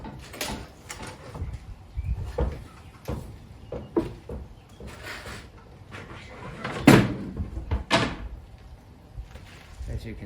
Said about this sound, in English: First I'm going to open the kitchen side